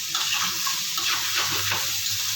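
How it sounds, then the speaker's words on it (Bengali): Poppy seeds frying in a pan, a dense, steady sizzle with soft stirring scrapes running throughout, close and loud. "পোস্তটা ঢেলে দেবো, ভাজা ভাজা হয়ে গেছে বন্ধুরা"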